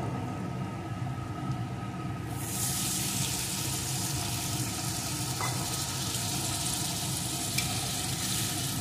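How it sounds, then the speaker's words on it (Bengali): Water is poured into a hot pan of papaya and potato curry, setting off a sudden broad, hissing sizzle that continues steadily, close and fairly loud. "এখন দিয়ে দেবো পরিমাণ মতো জল"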